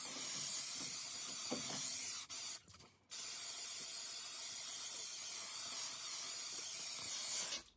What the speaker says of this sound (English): I'm gonna spray it. You're gonna do it about 6 to 8 inches from it.